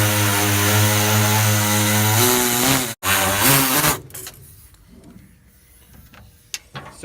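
Power tool cutting and trimming a car dashboard during a 2015 Challenger SRT gauge cluster install, a loud sustained whine with falling pitch that stops, restarts briefly, then gives way to quieter clatter and handling noises.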